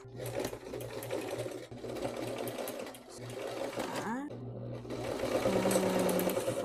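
Sewing machine stitching elastic fabric, a continuous close motor hum with needle clatter, while someone talks over it throughout.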